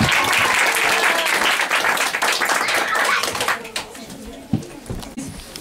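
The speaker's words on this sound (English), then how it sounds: "I'll give you a round of applause too" A crowd at a talk about King Rama gives a round of applause that is loud at first, then thins into scattered claps and fades, while a voice murmurs briefly toward the end.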